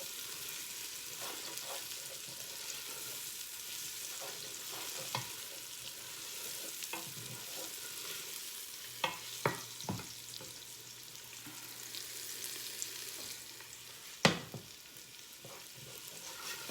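Spices swirl in hot oil in a pan for a Southern spaghetti sauce, giving a steady faint sizzle with occasional soft scraping knocks from stirring.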